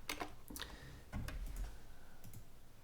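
Quick bursts of typing on a computer keyboard, a handful of crisp key clicks in short clusters, close and clear against a quiet room, with no talking.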